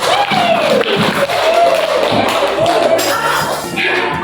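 A primary-school class in a religious studies lesson claps hands in a patterned rhythm, with thumping beats mixed under children's chanting voices, close and loud.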